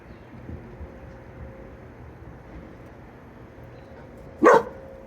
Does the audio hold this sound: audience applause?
no